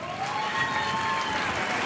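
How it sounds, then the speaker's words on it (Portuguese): Crowd at a samba awards show applauds for a performer, a short burst of steady clapping and cheering, with a faint thin whistle-like tone drifting through. "Agora sim, uma grande salva de palmas para Tinga."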